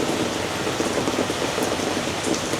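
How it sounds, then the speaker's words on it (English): Steady rain falls on a wet morning on Isla Mujeres, a continuous dense hiss of drops on surfaces, loud and close, with no voices. "it is a rainy, nasty morning"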